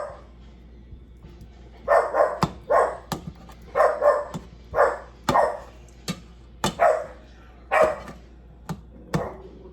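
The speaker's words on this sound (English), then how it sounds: "And you can hear my dog barking." A dog barks repeatedly in a kitchen, about a dozen sharp, fairly close barks in an uneven rhythm over a faint steady background hum.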